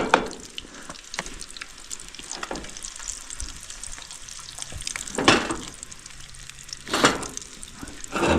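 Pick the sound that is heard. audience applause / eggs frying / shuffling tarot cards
eggs frying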